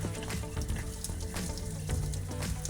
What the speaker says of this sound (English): just take this drain off and the water drains out